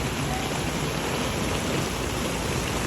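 Heavy rain pours down in a dense, even hiss that continues without a break, loud and close, during flooding in a village, with no voices heard.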